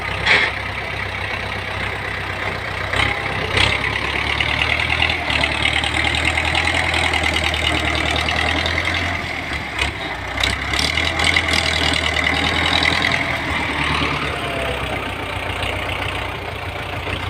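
A tractor engine idles close by with a steady low chugging rumble, briefly dipping midway before settling back to its constant drone.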